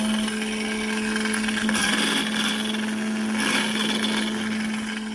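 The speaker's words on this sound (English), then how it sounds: "I'm going to run that through the trimmer again and see if we actually get any cut" A motorized cartridge case trimmer whines steadily, with two short, harsher bursts of cutting noise as the blade bites into the brass case.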